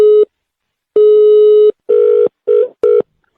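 A telephone rings in a comedy sketch, a loud electronic ring repeating in several separate bursts of varying length, close and clear with no talk over it.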